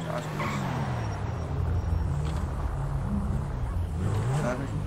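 A car driven in the video game GTA 5, its engine rumbling steadily with tire and road noise throughout, a continuous loud drone with rising and falling engine pitch.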